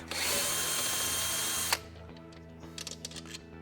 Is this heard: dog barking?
no